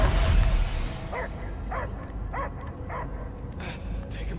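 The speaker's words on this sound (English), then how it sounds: "I hear only barking" A dog in the Guardians of the Galaxy video game gives a string of five or six rhythmic barks and yips, moderately close, over game ambience after a louder opening noise.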